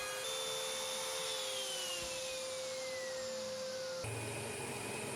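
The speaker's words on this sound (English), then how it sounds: "I'm using a router with a pattern bit to follow the template" A steady high-speed motor whine with a constant roaring hiss, a router with a pattern bit cutting wood up close along a template, with a slight shift midway.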